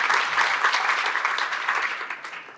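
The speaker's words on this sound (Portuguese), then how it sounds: "queria, por favor, uma salva de palmas a todos os desconexos do DNX" Audience at a tourism hospitality talk applauding the DNX team, a dense, even burst of clapping from a crowd that fades slightly toward the end.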